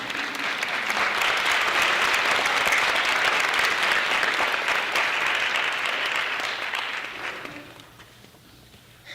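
Sustained applause from a lecture audience at a talk on mass incarceration, steady and full for about seven seconds before tapering off toward the end.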